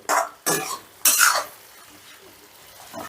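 Spiced potatoes being sautéed for soybean dopiyaza, with three quick scraping stirs of a spatula through the pan amid soft sizzling, followed by a quieter pause and one more light scrape.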